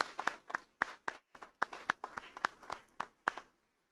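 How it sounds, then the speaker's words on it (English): A congregation at a deacons' ordination Mass claps in a sparse, uneven burst of separate handclaps, close and moderately loud, thinning out and stopping after about three and a half seconds. "Now let us give a thunderous clap to the Lord for these 18 deacons."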